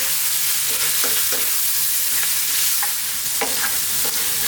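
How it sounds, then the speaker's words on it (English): Lamb curry frying in a pan with fresh tomatoes, stirred steadily: a continuous close sizzle with repeated scraping strokes of the spoon, no voices. "Keep stirring"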